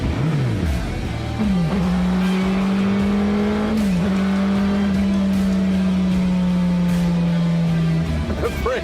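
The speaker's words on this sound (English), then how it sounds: "So Craig takes the Superbike powered Pulse for a ride for the first time" A Superbike-engined Pulse motorcycle built as a Back to the Future replica roars steadily up close, its engine holding a loud sustained drone with brief pitch dips and shifts, no talking.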